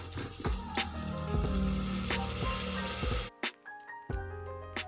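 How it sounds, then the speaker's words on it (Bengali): Dal frying in a pan with salt, turmeric, sugar and vinegar, a steady close sizzle with a few spoon knocks that stops abruptly, leaving faint clinks and light scraping. "আবারও ডালটা 2 মিনিট ভালো করে কষিয়ে নেব।"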